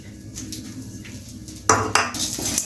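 Urad dal and a handful of curry leaves being dry-roasted in a pan for idli podi, with a soft rustle at first, then louder metallic scraping and clinking of a spoon against the pan in quick bursts.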